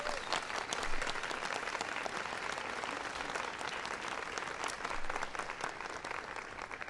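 An audience at a National Teacher of the Year honours ceremony gives the principals of the year a sustained, full round of applause, a continuous wash of many hands clapping at a moderate distance.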